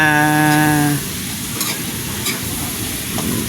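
Squash pieces stirred and sautéed in a hot pan, a soft steady sizzle with scraping stirs following a brief harmonic tone at the start.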